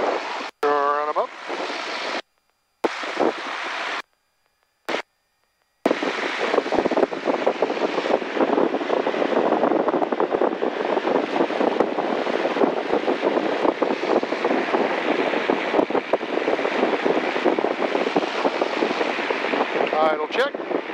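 A T-34 aircraft engine runs up on the ground before a formation flight, a loud steady roar with wind buffeting that holds from about six seconds onward after brief broken bursts at the start.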